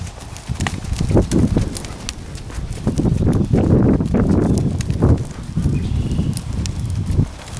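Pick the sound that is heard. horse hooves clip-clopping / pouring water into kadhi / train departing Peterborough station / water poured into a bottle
horse hooves clip-clopping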